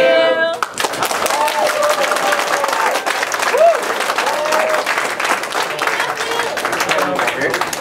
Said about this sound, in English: We want to say thank you with a clap